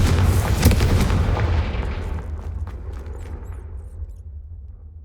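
Explosive spell blasts in the Hogwarts Legacy video game: a loud, booming burst up front with crackling debris, then a long rumbling decay fading over several seconds.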